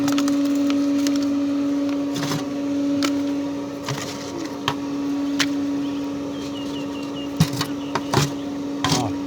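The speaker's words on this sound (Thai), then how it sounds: "เอามาขนไม้หน่อยเร็ว" Wood pieces being carried and handled for a charcoal kiln: scattered wooden knocks and clatters over a steady mechanical hum, with clunks growing more frequent toward the end; no speech.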